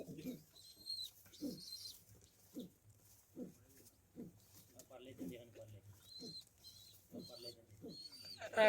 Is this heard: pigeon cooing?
yes